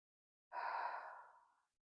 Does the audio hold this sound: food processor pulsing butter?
no